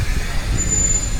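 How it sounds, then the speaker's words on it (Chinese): A route 2 city bus pulling up at a stop in Venice, Italy, its air brakes giving a brief hiss and faint squeal over a low, rumbling engine close by. "好了，这个公交车来了"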